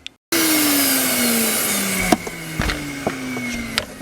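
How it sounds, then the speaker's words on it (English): A shop vac roars steadily up close inside a 2004 Kia Rio as it sucks up dust, with its pitch sliding gradually and a few sharp knocks and clicks as the nozzle bumps the surfaces. "If you have a shop vac with those little attachments, those little nozzles, go ahead and do that"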